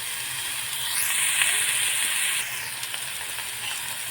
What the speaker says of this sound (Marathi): जे आपण अर्धे टोमॅटो कापले होते ते तव्यावर ठेवून घेऊ